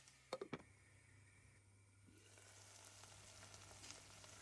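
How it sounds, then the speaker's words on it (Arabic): Chicken and small diced carrots stirred in a pot, a few quick scraping knocks of a spoon up front, then a faint steady sizzle rising as the pieces cook. "حبة جزر مقطع مكعبات صغيرة رح نقلبها مع الدجاج"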